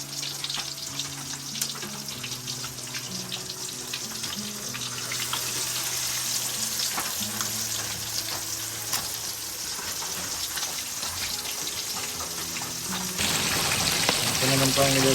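Pancit noodles fry in a pan with a steady loud sizzle that rises toward the end, over a low tonal hum, with no speech.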